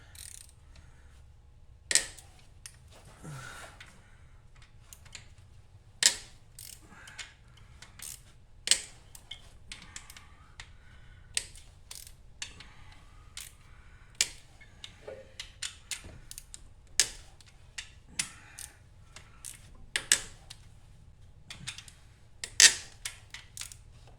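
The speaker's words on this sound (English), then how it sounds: "So I'm going to loosen up these a little bit at a time." Ratchet clicks and metallic taps while loosening bolts on a Volvo 245 engine, coming in short bursts of sharp clicks spaced across a quiet garage background, close and fairly clear.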